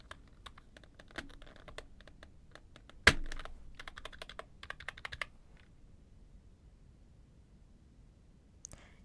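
Keys on a computer keyboard click and clack while being cleaned, a scattered series of close taps with one loud snap midway, thinning out into near silence with a final faint click.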